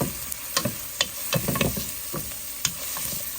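Onion and garlic stirred in a frying pan, a spoon scraping in irregular clicks and strokes over a soft steady sizzle, close and fairly quiet.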